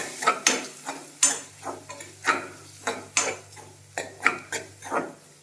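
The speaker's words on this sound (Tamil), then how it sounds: "நல்லா மிக்ஸ் பண்ணிக்கலாம்" A spoon stirring chili powder into a semiya masala in a metal pan, a series of close, regular scraping clinks about twice a second, each one distinct over a quiet background with no talking.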